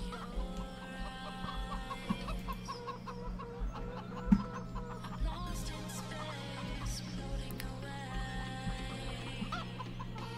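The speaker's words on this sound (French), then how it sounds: "Là, on ramasse les œufs. Salut les poules." Chickens in the Farming Simulator 17 video game cluck repeatedly in short, overlapping calls over a low steady in-game hum, fairly close and moderately loud.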